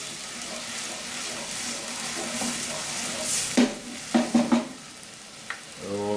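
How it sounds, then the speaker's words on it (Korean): Vegetables sizzle in a hot pan as mapo tofu sauce is poured in, a steady frying hiss broken by several sharp clatters of stirring utensils against the pan near the middle. "이렇게 야채를 이제 볶으시다가 이제 소스를 이제 다 부어주신대요"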